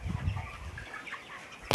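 Chickens on a poultry farm, a thirty-day-old flock, flap their wings in a quick close burst and then give softer clucks as the commotion settles.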